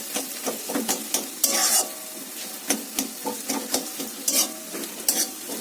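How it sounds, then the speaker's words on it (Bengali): Potato pieces sizzle in oil in a wok while a spatula scrapes and stirs them in quick, irregular strokes, the frying hiss steady underneath the close, gritty rasps. "এবার শুধু হচ্ছে ভাজবো আলুটাকে, একটু সামান্য বাড়িয়ে নেবে।"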